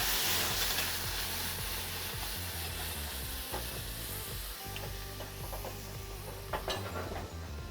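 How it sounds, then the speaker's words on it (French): A hot pan deglazed with a splash of white wine, giving a loud, steady sizzle and crackle up close, with scraping and stirring knocks throughout and no talking. "Je vais déglacer avec un tout petit peu de vin blanc."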